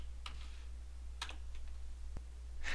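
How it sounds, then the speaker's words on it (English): A command is typed on a computer keyboard, with a few sparse, crisp key clicks spaced irregularly over a quiet background hum, close and alone. "In the command line, go ahead and type in Xref."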